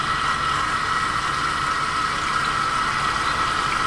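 Tap water turned on for vacuum filtration in a lab, a loud steady hissing rush of running water, continuous and close, with no talking.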